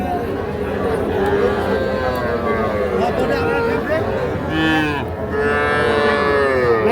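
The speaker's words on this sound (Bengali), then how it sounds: "দেখছেন এগুলো সব কিন্তু" Young bull calves at a village cattle market moo in repeated loud calls, close by, under steady crowd chatter and nearby talking.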